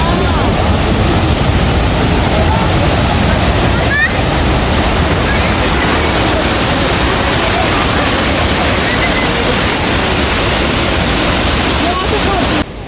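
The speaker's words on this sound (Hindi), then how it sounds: "यहाँ पर मुख्तलिफ़ जगहों पर डिफरेंट वाटरफॉल्स बने हुए हैं" A waterfall in Switzerland gives a steady, loud, close rushing roar of falling water that holds unbroken throughout, with a faint wind-like hiss over it.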